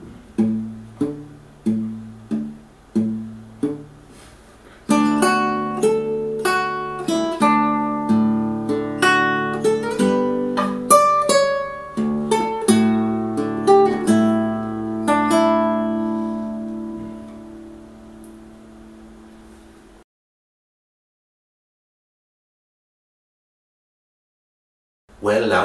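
Fingerstyle acoustic guitar plays a passage of a piece from the Lord of the Rings, starting with a few soft counted plucks, then a steady flowing run of picked notes and bass strings for about fifteen seconds before stopping; close and clear, no talk.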